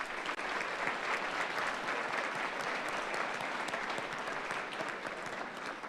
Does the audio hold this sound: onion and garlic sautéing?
no